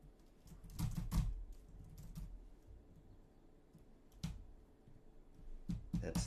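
Quiet, irregular clicks of computer keys typed about 18 inches from an Audio-Technica AT2020 condenser microphone, with a few heavier taps, heard faintly in a calm room.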